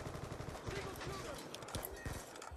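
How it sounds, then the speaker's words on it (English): Rapid gunfire bursts from a Black Ops 2 multiplayer match, with repeated shots crackling through dense game noise while voices talk over it. "How many times are they gonna shoot him?"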